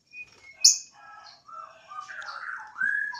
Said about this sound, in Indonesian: ini lovebird cuma satu kamar